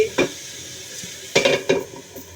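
A metal lid is set over a pan of water spinach stir-fry, giving a few sharp clanks and scrapes of metal on metal, close and fairly loud, over a low background sizzle.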